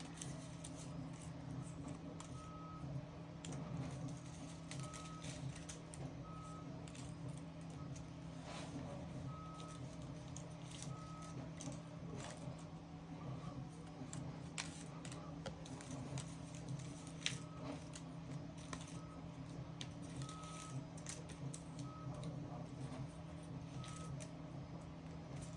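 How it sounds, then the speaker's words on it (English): A home 3D printer runs faintly in the background, its stepper motors giving a steady whir broken by short repeating tonal beeps and soft ticks. "you can probably hear my husband's 3D printer in the background"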